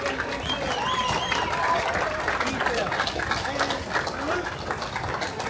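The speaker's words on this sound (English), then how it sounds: "let us let these veterans know that we do appreciate them by giving them a round of applause for being here" An audience applauds veterans at an Honor Flight gathering, a steady, moderately loud wash of clapping with crowd noise and overlapping voices and calls throughout.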